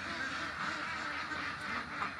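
Ducks being rounded up for catching quack continuously in a close, busy flock, harsh nasal calls overlapping over a faint background.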